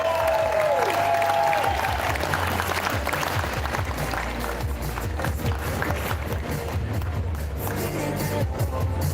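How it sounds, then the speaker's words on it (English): Applause fills a large hall at a Sydney arm wrestling qualifier finals, a dense, steady wash of clapping from the crowd that holds loud and continuous throughout. "Big round of applause."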